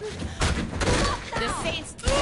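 Sharp gunfire bursts from the video game Saints Row 3 crack out a few times over a couple of seconds, mixed with in-game voices talking over the shots.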